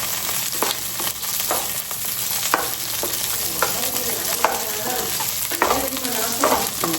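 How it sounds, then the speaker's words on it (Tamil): Small garlic sautéing in a pan for thecha chicken gives a steady loud sizzle, with scattered clinks and scrapes of a spoon stirring through it and no talking. "லைட்டாக சாட்டே பண்ணணும்."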